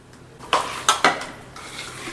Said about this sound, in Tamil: எல்லா மசாலாவும் போட்டு இந்த மாதிரி நல்லா மிக்ஸ் பண்ணி எடுத்துக்கோங்க